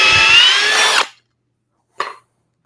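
A 40V Makita cordless drill runs loud and close under heavy load for about a second and then stops. A short burst of whirring follows after a pause.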